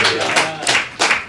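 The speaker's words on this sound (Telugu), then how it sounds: "చప్పట్లు కొడుతూ దేవుని మహిమ చెల్లిద్దాం" A church congregation claps in praise, three short bursts of hand clapping in a loose rhythm, fairly close and moderately loud.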